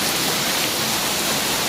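Balagbag Falls pours in a steady, close, broadband rush of falling water, loud and unbroken like heavy rain, with no voices over it.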